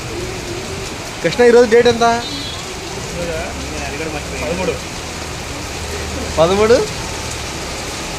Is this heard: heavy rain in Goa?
yes